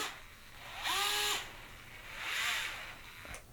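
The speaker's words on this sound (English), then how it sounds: "This is a gyroscopic screwdriver." A handheld gyroscopic screwdriver with no clutch whirs up and down in speed, two rising and falling motor bursts of about half a second and a second, then a brief click, fairly close and with no voices.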